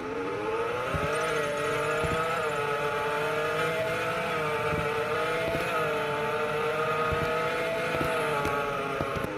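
A Ferrari F12 TDF engine in the Roblox game Taxi Boss drones steadily, its tone rising and falling gently as the car cruises, loud and continuous without talk.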